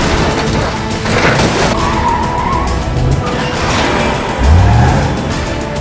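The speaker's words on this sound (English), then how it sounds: "This car chase is the biggest one that's ever occurred in London." Stunt cars tear through a large London car chase shoot for National Treasure: Book of Secrets, with engines roaring, tires skidding, a sharp crash burst early on and a rising screech near the end, loud and busy with no talk.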